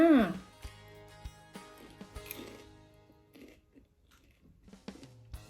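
Close-up biting and chewing of food, with a voice at the start followed by soft, irregular crunchy chews and mouth noises.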